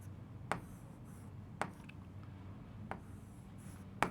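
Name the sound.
writing on a board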